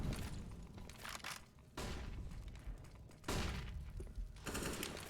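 M4 rifle fire from a CS:GO match sounds in several loud, sharp bursts of shots separated by brief lulls, with booming impacts mixed in.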